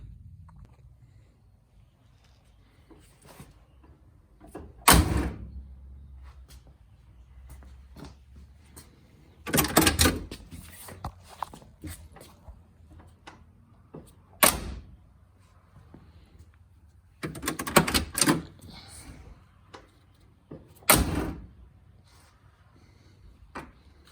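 A Citroen C3's door is slammed shut five times with pauses between, each a sharp close thud with some rattle, heard fairly near with no talking.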